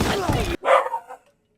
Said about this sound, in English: you guys can hear my dog barking.